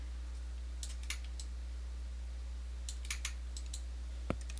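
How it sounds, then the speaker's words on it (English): Computer mouse buttons clicked during a building game, a few faint, sharp clicks scattered across a quiet background with a low steady hum, one slightly louder click near the end. "Just right-clicking."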